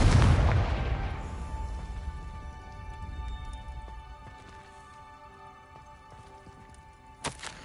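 Confringo spell explosions in the Hogwarts Legacy game: a loud blast at the start fades into a long rumbling decay over quiet ambience, then a sharp single crack lands near the end.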